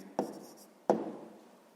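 Handwriting an answer on paper with a pen: two quick scratchy strokes, each fading into a soft rubbing tail, close and quiet.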